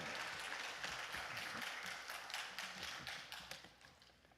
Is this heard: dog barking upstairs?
no